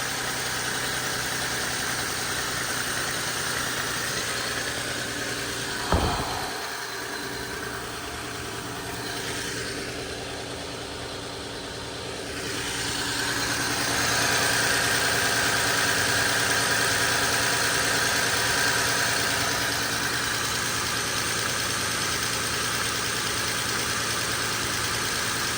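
A car engine idles steadily after a spark plug change, a constant close hum and vibration with one brief thump early on, the revs shifting and settling partway through.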